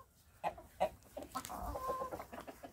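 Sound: chickens clucking, Baekbong silkie and Cheonggye breeds

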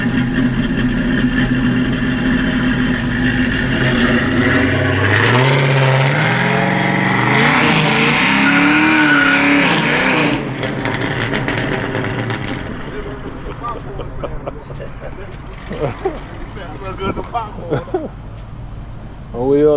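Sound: 1979 Chevrolet Caprice with LT swap engine revving

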